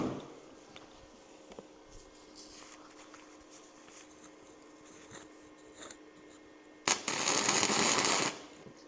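Flux core wire welder tack welding a corner: a faint crackle through most of the stretch, then one loud, steady sizzling burst of arc crackle lasting about a second and a half before stopping.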